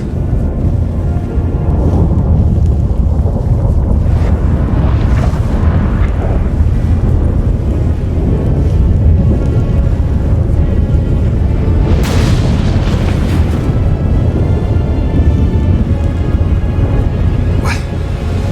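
A storm rolls in during the final battle of The Witcher 3: Wild Hunt, a loud, unbroken rumbling roar with heavy booms swelling through it, dense and close the whole time.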